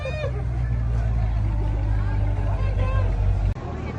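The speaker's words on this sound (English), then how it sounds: "You can start the engine, I want to listen." A car engine runs at a steady, rumbling idle nearby, loud and unbroken for about three and a half seconds, with faint background voices behind it.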